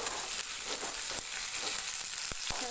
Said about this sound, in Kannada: ಎಣ್ಣೆಲೆ 5-6 ನಿಮಿಷ ಚೆನ್ನಾಗಿ ಹುರ್ಕೋಬೇಕು ಬೆಂಡೆಕಾಯಿ ಮತ್ತು ಈರುಳ್ಳಿನ